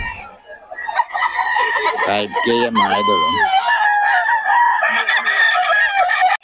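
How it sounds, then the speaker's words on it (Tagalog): Several roosters crow loudly one after another, overlapping with clucking hens close by, while someone talks briefly near the start. "Gaganda ng mga manok"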